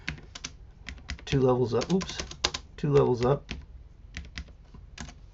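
A computer keyboard clatters nearby as a change-directory command is typed in quick bursts of keystrokes, and someone talks briefly over the tapping.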